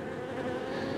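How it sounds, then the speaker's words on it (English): Honey bees buzz steadily on a hive frame from a double nucleus colony during an inspection, a close, continuous low hum with no talking. "it looks like there's more bees on this side than the other side"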